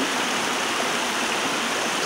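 A river rushes steadily through a gorge, a dense, continuous broadband roar of flowing water that stays even and close throughout, with no voices over it.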